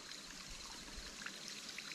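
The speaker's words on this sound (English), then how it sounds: "Here's the water flow over Dewey Canyon Falls." Low water trickles steadily over Dewey Canyon Falls, a faint, even rush of flow at a modest distance with no speech.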